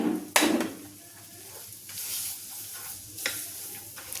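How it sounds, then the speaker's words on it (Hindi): Lengthwise-sliced onion sizzles in a pan while being stirred with gram flour (besan), a soft frying hiss under scraping strokes, with sharp utensil clanks against the pan near the start and again later. "बेसन के साथ इसे अच्छी तरह से भून लेंगे"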